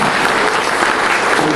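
Loud, dense applause from a lecture-hall audience welcoming an introduced guest, a continuous roar of clapping with no speech.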